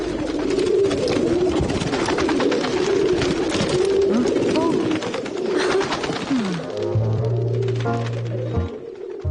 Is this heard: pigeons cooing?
yes